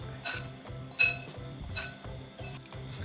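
About three tablespoons of crispy frying flour are stirred and mixed in a bowl as batter for Thai garlic-pepper fried shrimp. A steady rhythmic scraping repeats, with light clinks of utensil against the bowl and no talking.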